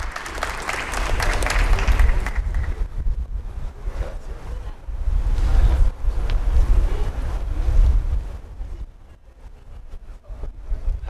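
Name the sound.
audience applause welcoming Colonel Otero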